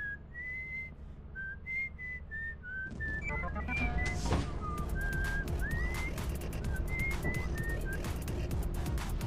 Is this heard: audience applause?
no